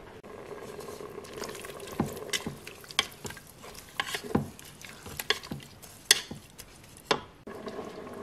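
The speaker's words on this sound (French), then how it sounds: "On va ensuite donc ajouter le coulis de tomate et le vin blanc." Tomato coulis and white wine stirred into ingredients in a Cookeo multicooker pot, giving a soft sizzle and wet stirring with intermittent spoon knocks against the pot, moderately close, no talking.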